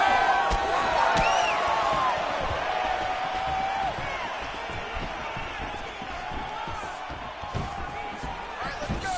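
Video game crowd at a UFC 5 online ranked championship bout roars and cheers steadily through the whole stretch, loud and continuous, with sharp slams and impacts from the fight cutting in above the noise.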